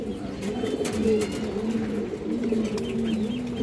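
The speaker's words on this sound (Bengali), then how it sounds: "এগুলো পাল্লা লাইনের মুসলদম কবুতর" Muslodom pigeons, a black pair of this breed, coo in low, rolling, repeated phrases that are heard close and continuous, with faint background noise.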